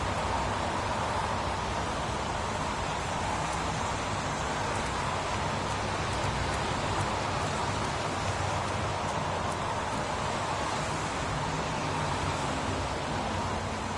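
Steady rain falls in the PS4 video game Heavy Rain, a continuous even hiss that does not let up.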